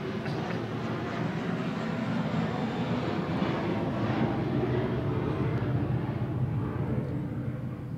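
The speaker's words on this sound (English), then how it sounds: "You can have a little bit of extra time if a plane goes overhead." An airplane flies overhead, a loud, continuous broadband roar that holds steady and fades slightly toward the end.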